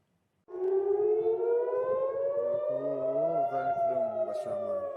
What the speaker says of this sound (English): Israelis living in central Israel near Tel Aviv were forced to shelter upon hearing the air raid sirens